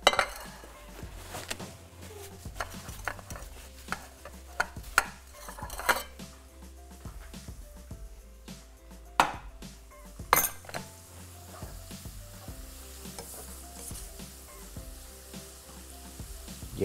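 Onions frying in a pan until crunchy and crisp, with kitchen clatter of utensils and dishes: scattered metallic clinks and scrapes over a steady low sizzle, fairly close and moderate in level, no talking.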